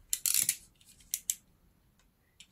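Crisp scissor snips cutting paper for a flip book, a quick cluster of several cuts followed by two more snips, close and fairly loud, with quiet pauses between.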